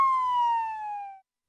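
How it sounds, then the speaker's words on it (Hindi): A police siren sounds as one clear, loud, falling electronic wail lasting just over a second, then cuts off into silence. "सायरन का बजना था"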